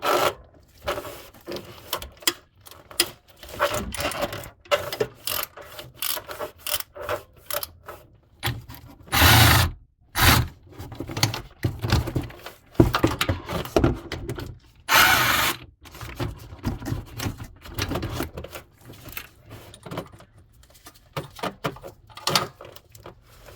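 A long-handle ratchet with a 12mm deep socket and extensions loosens bolts during engine block removal on a 2008 Acura MDX, rapid close clicking bursts separated by pauses and a few louder clanks.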